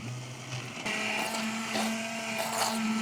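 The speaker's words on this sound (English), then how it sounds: "busting out the old immersion blender and getting everything buzzed up" An immersion blender buzzes through a pepper sauce with oil, a loud steady motor whine that shifts pitch partway through as the blade works the mixture, with no talking.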